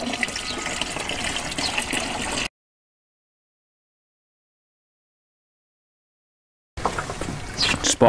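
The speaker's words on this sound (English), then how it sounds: "just fill it up with a watering can" Water from a watering can runs steadily into a hydroponics tower, a splashing fill sound that cuts out into silence, then resumes briefly with some clatter at the end.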